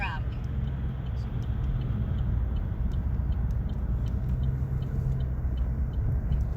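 A car climbs the 406 North ramp onto a Canadian express road, its steady low engine and road rumble continuous and close throughout, with faint ticking above the drone.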